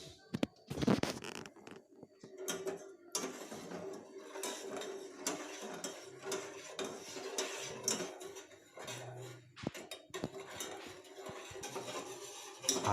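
A spoon stirs milk and sugar in a bowl to dissolve them, making repeated soft scraping and light clinking strokes at an uneven rhythm, close and fairly quiet.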